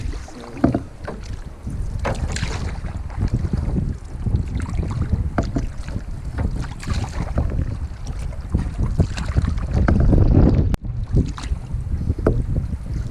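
Strong wind buffets the microphone while a canoe is paddled along a shoreline in the Delaware Water Gap, a loud steady roar with gusts and water splashes, with no voices.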